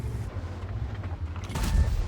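A deep booming tank cannon shot from World of Tanks, fired by an E100, a heavy low-end blast with rumble over a continuous engine drone, louder toward the end.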